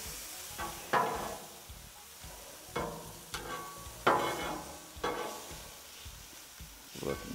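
Asparagus being turned on a sizzling Blackstone griddle, with a steady frying hiss broken by several scraping spatula strokes at irregular intervals, close and moderately loud.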